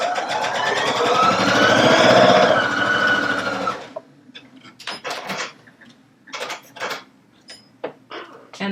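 A Baby Lock Allegro sewing machine stitches piping in a steady, fast run for several seconds, loud and close, then stops and leaves scattered clicks and fabric handling sounds.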